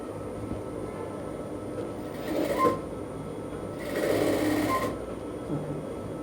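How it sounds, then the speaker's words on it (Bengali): Sewing machine stitching a bell sleeve, its steady mechanical whir running throughout at moderate level, with two louder surges of faster stitching. "এবার আমি দেখুন সেলাইটা ঠিক কিভাবে করতেছি।"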